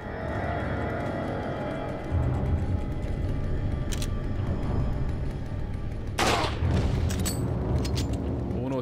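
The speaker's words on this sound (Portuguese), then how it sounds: "Uno tiro, dois tiros." Sniper rifle shots in Resident Evil 4, loud booming reports with a sharp crack, two distinct blasts spaced a couple of seconds apart over a constant low game rumble.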